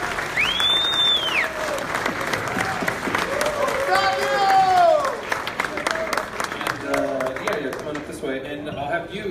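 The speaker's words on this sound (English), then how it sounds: "Everyone give a round of applause for the director." An audience in a premiere Q&A room applauds a film director with sustained clapping, a crowd's steady rattle that swells and then slowly thins, while a host speaks over it.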